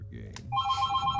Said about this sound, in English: Oh, sorry for the phone in the background.